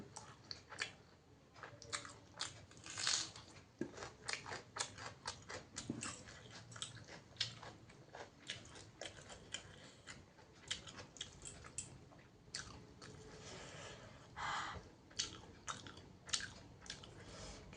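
Someone eating biryani with spiced onion and chili, close-up wet chewing and biting with soft squishy clicks in an irregular rhythm, quiet and alone without talk.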